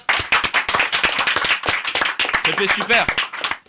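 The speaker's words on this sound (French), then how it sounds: "Est-ce qu'on peut faire un applaudissement pour Pépé Super?" A small studio group claps for a commenter on a French broadcast, sharp, fairly close handclaps in a loose rhythm, with voices talking and exclaiming over them toward the end.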